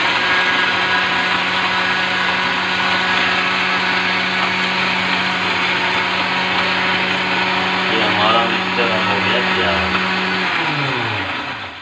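An electric mixer grinder whirs as it blends spices and green cardamom with a little water into a paste for shadi-style kurma, a loud steady motor drone with a sustained hum that runs for several seconds before spinning down to a stop.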